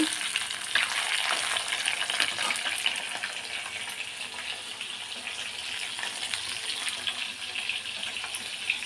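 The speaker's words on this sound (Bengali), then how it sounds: "এদিকে মাছ ভাজা হচ্ছে, ভাজা বসিয়ে দিয়েছি" Rohu fish pieces fry in hot oil in a home kitchen, a dense continuous sizzle and crackle that stays close and fairly loud throughout with no voices.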